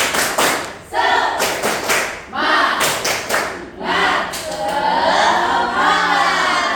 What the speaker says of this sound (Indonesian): kita tepuk semangat dulu nih biar lebih semangat